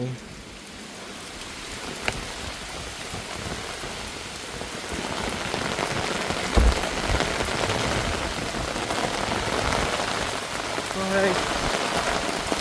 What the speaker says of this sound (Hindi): वो बहुत तेज़ बारिश है भाई साहब.